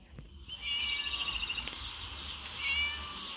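A cat meows in a cat rescue level of a video game, a short drawn-out mewing call followed by a second fainter meow, heard alone over a low background hum.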